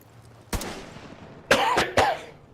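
Three sharp, loud coughs ring out, one alone and then a close pair, each a short broad burst with a fading tail, with no talk over them.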